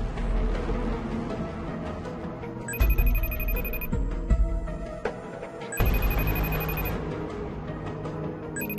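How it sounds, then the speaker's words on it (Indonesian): A telephone rings on an outgoing call, a repeated electronic ringback tone in bursts separated by short pauses, heard clearly with nobody speaking. "Aku coba telepon Mbak Aurel deh"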